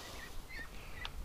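A small blind pet duck gives a few short, high, panicked calls, thin and faint above a steady low background hum.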